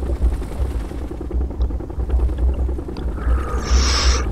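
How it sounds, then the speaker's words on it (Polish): Military helicopters arriving on the battlefield in a Soviet-side strategy video game, a steady low rotor thrum with heavy chop throughout, joined by a brighter whine near the end. "Nasze śmigłowce docierają na pole bitwy."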